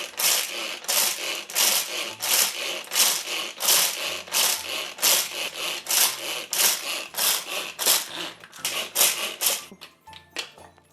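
Candy canes being chopped finely for brownie batter, a steady run of rapid, loud crunching and scraping strokes in an even rhythm, close up and with no talk over it.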